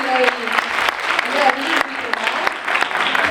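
An audience claps steadily throughout at the close of a talk on synthetic fibres and nylon, a dense, even wash of applause, with a voice briefly audible beneath it.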